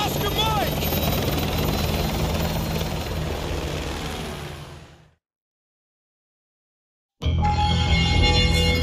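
Helicopter in Call of Duty Modern Warfare 2, a loud close rotor and turbine roar with voices over it that fades out, leaves about two seconds of silence, then cuts back in at full loudness.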